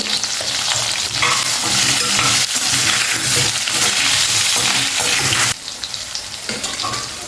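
Drumsticks frying with salt in a tomato masala curry, a loud dense sizzle with steady stirring, cutting to a slightly quieter sizzle near the end.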